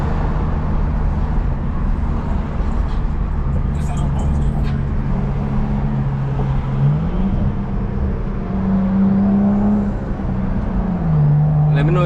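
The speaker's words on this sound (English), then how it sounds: "Let me know if you guys like the intake sound, man" A big-turbo BMW 440i with a homemade intake, heard from inside the car as a loud, continuous engine drone that rises and falls in pitch with the revs, under traffic noise.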